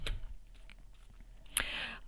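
Tarot cards shuffled by hand during a Celtic Cross reading, giving a short papery riffle with soft clicks and one sharper snap near the end, close and alone.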